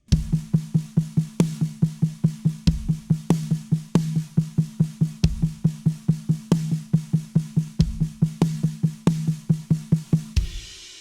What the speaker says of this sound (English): add a snare accent in there and then another kick